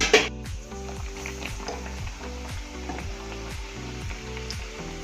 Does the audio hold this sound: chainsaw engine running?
no